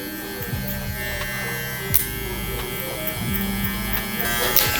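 Electric hair clippers fitted with a number 3 guard, lever open, run with a constant close buzz while cutting hair in a barber taper fade, with brief bursts of talk over the hum.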